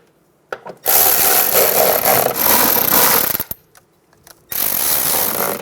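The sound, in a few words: tightening fender liner bolts on Toyota Highlander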